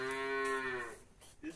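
A farm cow gives one long, loud, close moo lasting about a second, then it fades into quiet outdoor air.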